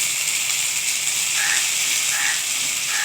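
Poppy seeds going into hot oil with frying black cumin and green chilies, a steady loud sizzle and hiss filling the whole moment with a few brighter crackling surges, no voices.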